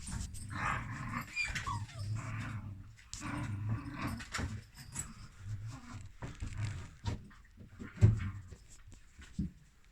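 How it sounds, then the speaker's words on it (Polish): A litter of puppies indoors gives close, irregular bursts of small growls and whimpers with short gaps between them, and a few louder yaps near the end. "Pieski! Wszystkie wyleźli."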